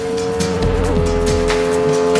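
A Chinese-built motorcycle runs hard on a racetrack under braking, its engine a loud droning whine that shifts in pitch, with tire scrubbing and short bursts, close and continuous without talk.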